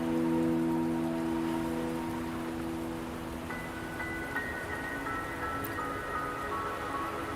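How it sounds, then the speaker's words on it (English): Steady rain hisses through a Wuthering Waves game scene, a constant even wash of drops under sustained musical tones from the game's soundtrack. "Don't worry, the rain won't last much longer."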